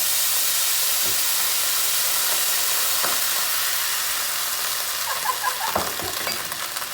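White wine poured into a hot pan of oil and butter for chicken piccata, giving a steady broadband sizzle and hiss with a few sharper spits and pops toward the end, close and alone.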